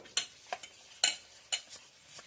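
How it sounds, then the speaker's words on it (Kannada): Ragi idli batter mixed with water in a bowl, heard as rhythmic wet stirring strokes about twice a second, soft and close, with no talking. "ಈಗ ಇಷ್ಟು ಮಿಕ್ಸ್ ಮಾಡೋಣ"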